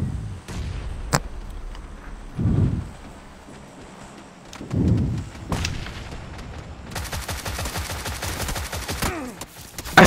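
Gunfire in PUBG on Xbox, sharp single shots and heavier booming blasts spread across the clip, then a rapid sustained burst of shots near the end.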